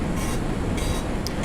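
A train rumbles steadily inside a video game control room, a dense low drone with faint higher hisses layered over it, heard alone without talk.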